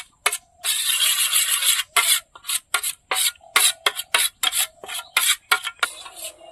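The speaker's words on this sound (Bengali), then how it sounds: "কাশ্মীরি লঙ্কার গুঁড়ো, লবণ। এবার এইটা ভালো করে ফেটে নেব।" Cumin powder, Kashmiri chili powder and salt are whisked briskly in a bowl for a cauliflower roast: close, rhythmic scraping and rasping strokes in quick bursts with short pauses, no talking.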